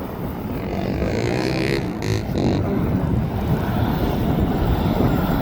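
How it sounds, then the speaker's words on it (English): A Spitfire on final approach at an airport drones as a steady distant engine roar under heavy wind buffeting on the microphone, continuous with no break. "oh, it's the Spitfire"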